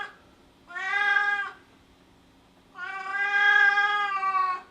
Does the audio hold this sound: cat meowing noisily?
yes